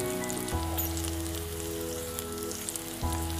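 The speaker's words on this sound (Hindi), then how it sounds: "मटर एकदम अच्छे से फ्राई हो चुकी है।" Peas frying in oil in a pan on the stove, a steady crackling sizzle like light rain that carries on evenly throughout, with a low hum underneath.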